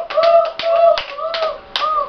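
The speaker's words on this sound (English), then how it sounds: "you should do the Kalapati Clap." A sixth-grade math class performs a rhythmic group clap routine: sharp, bright claps in a patterned beat, mixed with chanted voices rising and falling between the hits.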